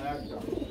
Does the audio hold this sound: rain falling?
no